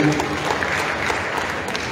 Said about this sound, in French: on applaudit très très fort pour lui